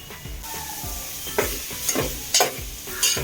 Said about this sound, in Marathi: आता कांदा टाकायचा त्याच्यामध्ये कांदा ऍड केलेला आहे